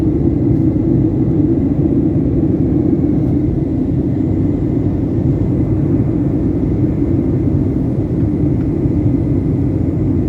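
Airplane approaching to land at Sydney Airport over Kurnell, heard from inside the cabin as a steady, loud, low engine roar and rumble that holds constant throughout with no talk.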